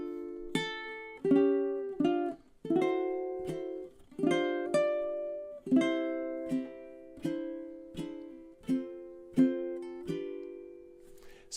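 A ukulele plays measures five through eight of a song as a soft, unhurried run of strummed and plucked chords. Each chord sustains and fades, close-miked and alone, with no speech.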